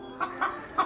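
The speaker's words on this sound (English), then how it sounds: "There is a hen in here you might be able to see." Hen clucking inside a closed broody cage, three short, fairly close clucks spaced unevenly over under a second, with no talking.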